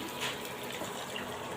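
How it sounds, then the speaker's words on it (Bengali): Water poured into a cooking pan of potol chingri (pointed gourd with prawns) after the spices are fried down, a steady close pouring hiss with no talk. "পরিমাণ মতো পানি দিয়ে দিলাম"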